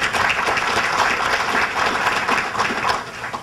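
Loud, dense applause from a large audience at a 2014 State of the City address, a steady roar of many hands clapping close by for the full few seconds, with no talking.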